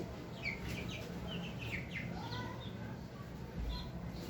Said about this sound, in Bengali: এই প্রথমবার মুরগির বাচ্চা কিনে পালতেছি